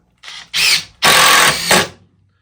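Dewalt DCF850 brushless impact driver driving a screw in third speed, several close, loud bursts of whirring and rattling hammering, the longest burst near a second, with short pauses between.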